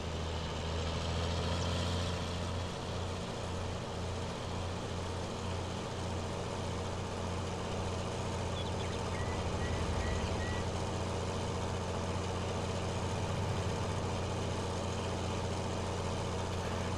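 Tractor engine idling in Farming Simulator 19, a steady low rumbling drone with a constant throb, continuous and moderately loud with no talk.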